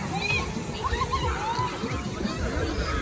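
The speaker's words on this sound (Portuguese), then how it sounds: "E as crianças estão fazendo bagunça na água." Children splash and play in a mountain river in Japan, the water sloshing and slapping steadily and fairly close, with a hubbub of voices mixed throughout.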